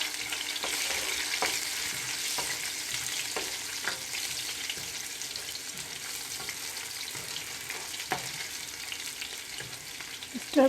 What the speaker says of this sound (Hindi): स्टर करना है जब तक ये ब्राउन हो जाए